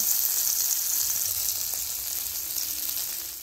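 Tomato and onion lightly frying in a pan, with garlic and ginger, for a Bengali keema-stuffed potol dorma. A steady, close, hissing sizzle runs without a break and fades slightly at the end.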